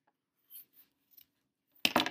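Scissors snip off extra yarn. A few quiet snips come first, then two louder, closer cuts at the end.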